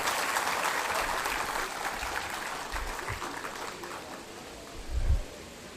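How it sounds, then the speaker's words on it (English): An audience applauds the Chief Justice of India at an Independence Day function on the Supreme Court lawn, a steady wash of clapping that stays fairly even throughout, with a brief louder swell near the end. "Can we have a huge round of applause for the Honorable Chief Justice of India?"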